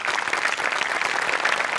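A studio audience at a Marathi comedy show claps loudly in a dense, sustained burst of applause that stays even and close throughout, with no voices on top.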